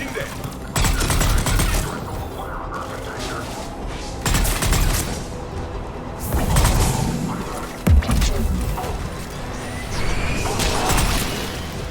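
Gunfire and blasts in a Mass Effect 3 checkpoint battle against Krogan, dense and continuous with bursts and booms layered over a constant combat din, with voices shouting now and then.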